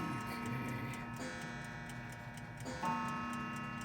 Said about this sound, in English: Listen to all these clocks going.